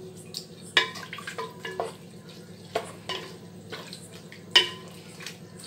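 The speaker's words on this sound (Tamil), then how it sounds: "நல்லா கலந்து விட்டுறேன்." Salted vegetable pulao rice stirred in a pot, heard as scattered close scrapes and clinks of a utensil against the pot over a soft cooking hiss, with a few louder strokes standing out.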